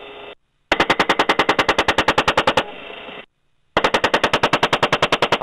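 An AH-64D Apache's 30 mm chain gun firing in rapid, evenly spaced bursts of heavy thuds, two long strings separated by brief silences and a rushing rotor and engine roar.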